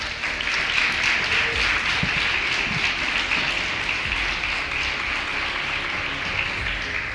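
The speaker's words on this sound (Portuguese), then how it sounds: "Salva de palmas" A church congregation applauds during a sermon, a continuous broad patter of many hands clapping at steady strength throughout, with no voices over it.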